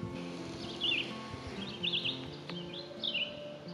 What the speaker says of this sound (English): There's a mama and baby birds.